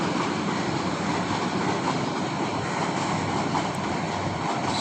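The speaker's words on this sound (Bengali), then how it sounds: "ওই দেখেন ট্রেন যাচ্ছে।" A long train passing in the distance on a winter morning, heard from a rooftop garden as a steady, broad rumble that neither rises nor fades across the whole stretch, with no voices.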